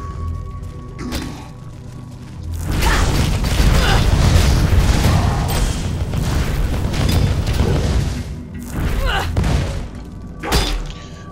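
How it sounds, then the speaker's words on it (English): Fire traps in the Path of Exile video game set off a dense run of booming explosions and crackling bursts, loud and sustained, with a few scattered blasts after. "Ooh, fire trap."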